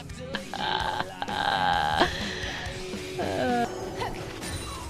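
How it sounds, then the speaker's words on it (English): A woman lets out several loud, drawn-out burps in quick succession, with clattering knocks between them and brief voices at points. "Pretty good burps."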